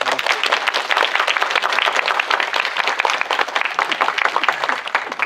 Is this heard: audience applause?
yes